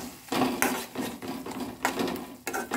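Prawn curry with coriander powder and ginger-garlic paste is mixed in a pan with a metal spoon, making a series of loud, close scraping and clattering strokes in an uneven rhythm, with no voices.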